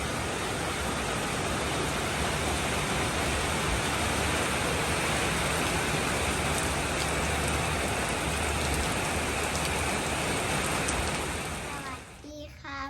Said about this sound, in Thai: ฝนตกให้คนดำนา